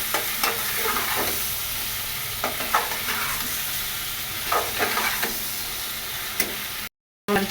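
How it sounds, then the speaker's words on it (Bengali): Fish and potato pieces sautéing together in a pan sizzle and crackle steadily up close, with repeated spatula scrapes and stirring knocks, then break off in a brief silence near the end. "মাছ আর আলু একসাথে কষিয়ে নিই।"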